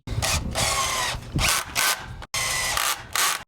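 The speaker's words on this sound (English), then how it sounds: "Get our screws in." A power drill driving screws into a wooden bed frame, several close, loud whirring bursts of roughly half a second to a second each, separated by brief pauses, with the final burst running longest.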